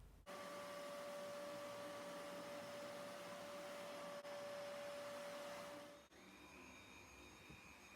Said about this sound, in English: That's how the cheap one cleans. It does a really good job, but it's really loud.